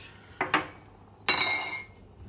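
A drinking glass being taken from a kitchen cupboard, two quick close clinks followed by a brighter ringing chime that fades out, with no talk.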